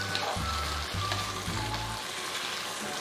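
Kaleji (liver) with tomatoes sizzles in a hot pan as it is stirred, a steady close frying hiss with a low scraping rumble in the first two seconds and no voices.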